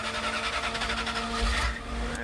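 A D250 truck engine runs on gasoline with a steady, rough idling drone and a slight rise in revs midway, fairly close and without talk.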